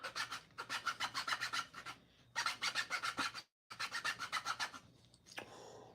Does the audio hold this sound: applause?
no